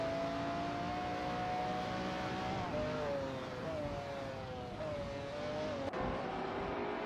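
Hypercar engines whine in a video game race, a close, sustained tone that rises and dips with gear changes, over a steady roar of other cars and a brief thud near the end.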